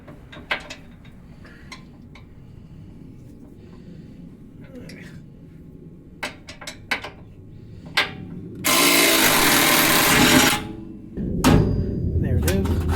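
Impact wrench working a bolt loose on a Raptor downpipe, a loud buzzing burst lasting about two seconds, then a shorter one, preceded by scattered clanks and taps with people talking throughout.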